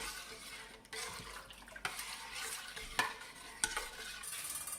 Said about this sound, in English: Put that all in there, and then mix it together.